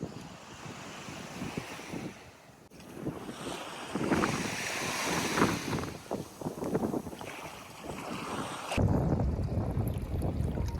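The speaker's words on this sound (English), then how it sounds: "I love how the current was making these little miniature waves here." Small waves wash onto a winter beach at Tybee Island, Georgia, with a steady rush of surf and strong gusting wind buffeting the microphone throughout.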